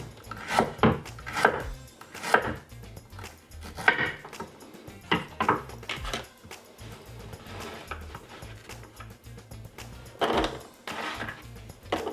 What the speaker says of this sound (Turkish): Şimdi havuçlarımızı da şöyle dilim dilim doğrayacağız arkadaşlar.